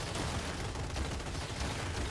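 Machine guns in the robot combat game Gladiabots trade fire in a dense, continuous rattle of rapid shots, loud and unbroken with no voices.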